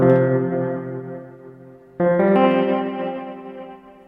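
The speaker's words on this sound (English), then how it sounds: "what I'm going to do now is introduce some amplitude modulation, some AM." A Pladask Elektrisk Draume pedal applies amplitude modulation to Elektron Digitone synth notes. Two sustained tones each decay over about two seconds, and the volume flutters rapidly within them, close and clear with no voices.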